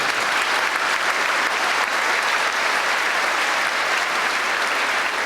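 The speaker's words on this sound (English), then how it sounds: "I think she deserves our applause." Steady, dense applause from a seated audience at a 1993 high school graduation ceremony, loud and even throughout with no voices standing out.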